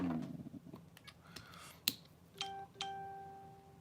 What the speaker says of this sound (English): Let me just mute my phone. Hold on, my phone's going insane.